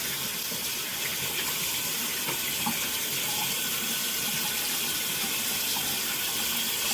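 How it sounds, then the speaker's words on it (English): Tap water runs in a steady, even rush while rinsing a freshly shaved head; the close, constant hiss continues with no pauses and no voices. "You can rinse it out."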